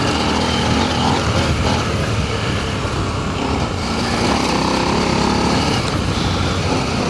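A KTM 890 motorcycle engine revs hard while riding off-road over loose rocky ground, a loud continuous high-pitched roar that rises and falls with the throttle, close by and without pause.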